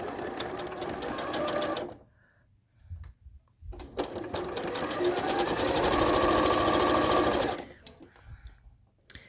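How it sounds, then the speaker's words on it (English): A sewing machine with a quarter-inch quilting foot stitches a table runner seam in two rapid mechanical runs, separated by a pause with faint handling sounds, close and fairly quiet. "This is my 1/4-inch foot with a little flange there to make sure that all my stitches, all my seam allowances stay consistent."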